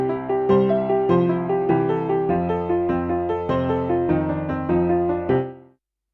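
Synthesized music made in SunVox plays two measures in five-beat time, a steady layered pattern of bright pulsing notes over a bass line, with the foreground part clear in the mix, ending in an abrupt fade with no voice.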